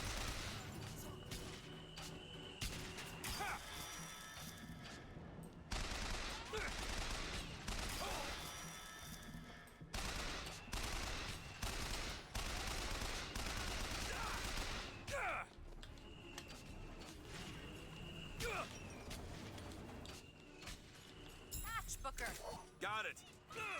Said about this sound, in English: I'm gonna use my crank gun on these fools.